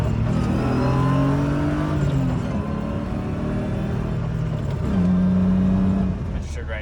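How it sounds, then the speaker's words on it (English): A BMW E36 M3 engine revs continuously while the car is driven, a steady loud roar with rising and falling pitch sweeps and a clear shift in tone near the end. "I'll post a little clip here of me driving it."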